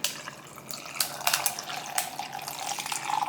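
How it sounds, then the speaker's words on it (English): Cold brew coffee poured over ice into a glass cup with a glass lid, a soft trickling, splashing pour with light clinks, close and moderately quiet, with no talking. "And now I'm gonna pour in my cold brew."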